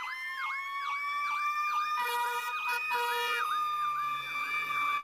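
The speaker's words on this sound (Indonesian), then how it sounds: "ini mobil pemadam kebakaran teman-teman" An electronic wailing siren cycles rapidly up and down, bright and tinny like a toy fire truck, with a second tone layering in midway.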